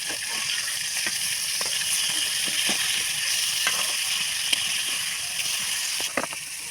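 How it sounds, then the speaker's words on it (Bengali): Freshly flipped fish sizzling in hot oil in a kadai, a close, continuous crackling hiss punctuated by brief pops and light spatula clicks against the pan. "মাছ এখন উল্টে নিব।"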